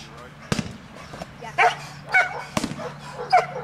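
A dog barks in sharp, loud bursts during Schutzhund bark-and-hold protection training, with several close barks spaced irregularly and people talking nearby.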